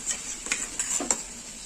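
Dissolved spice paste going into a hot pan for a yogurt mixed-vegetable dish, with a soft sizzle under a few sharp spoon taps and stirring scrapes, close and fairly quiet.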